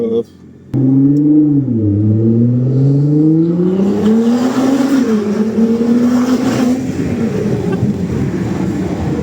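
A Nissan GT-R R35 with 600 horsepower pulls hard from inside the cabin, its engine droning loud and close as the pitch rises and falls through the gears, with occupants talking over it.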